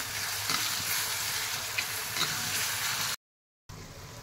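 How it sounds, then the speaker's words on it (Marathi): Tomatoes sauté with onions in a pan, giving an even, continuous sizzle with soft stirring scrapes, then a brief pause before the sizzle resumes. "आता आपण ह्यावर टोमॅटो घालून घेऊयात। टोमॅटो सुद्धा आपल्याला मऊ होईपर्यंत परतून घ्यायचा आहे"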